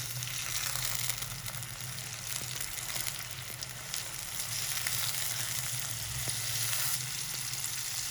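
Chicken pieces fry with salt in a pan, producing a continuous dense sizzle that stays loud and even throughout, with faint occasional clicks and no voices.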